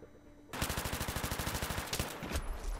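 Rapid automatic gunfire in Battlefield 3, a loud, steady burst of evenly spaced shots that starts abruptly after a brief quiet moment and runs for about two seconds before breaking off into scattered louder bangs.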